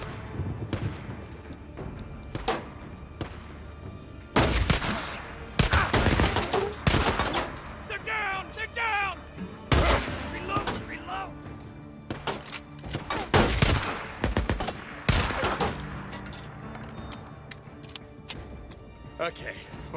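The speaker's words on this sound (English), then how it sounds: "I heard gunshots. It might be an ambush camp." Bursts of gunfire and automatic weapon fire in a shooting video game, dense volleys and single shots throughout, mixed with game voices talking over the action.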